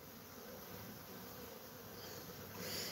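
A soft, constant drone of bees fills a bee yard, many insects buzzing together at low volume, slightly swelling near the end.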